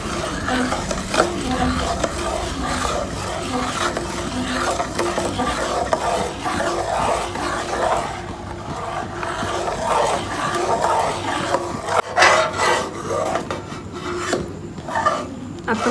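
Mawa being stirred in a pan with sugar and ghee as it thickens, a steady scraping and rubbing of a spoon against the pan bottom that continues throughout at close range, with no talk.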